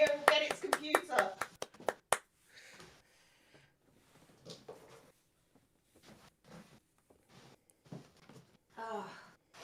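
A quick burst of close hand claps, about a dozen sharp slaps in the first two seconds, followed by quieter scattered talking.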